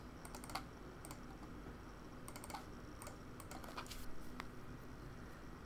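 Someone types on a new computer keyboard, sharp irregular key clicks in short bursts over a quiet background hum, close and alone without talk.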